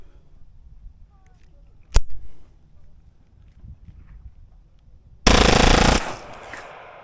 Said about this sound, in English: let's do a full 21 round mag